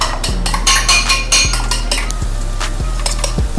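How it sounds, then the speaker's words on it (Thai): Eggs are beaten in a bowl, a close series of rhythmic utensil strikes against the bowl, several quick clinking scrapes repeated at a steady pace. "เราก็ตีไข่ก่อนนะคะ"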